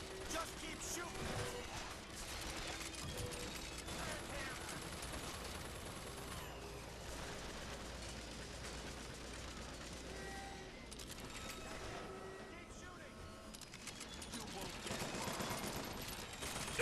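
Sustained gunfire from Bioshock Infinite, rapid bursts and machine-gun fusillades layered with mechanical clatter, loud and continuous throughout, with shouted voices mixed in.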